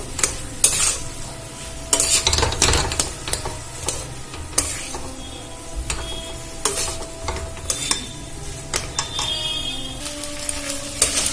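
Spiced vegetarian Bengali snack mixture frying in a pan, with repeated scraping and clinking stirs of a utensil against the pan over a soft continuous sizzle.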